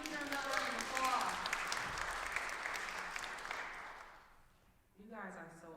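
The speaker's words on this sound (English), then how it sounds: "give me another round of applause" An audience applauding at a storytelling event, a dense wash of clapping that fades out over several seconds before a voice begins speaking.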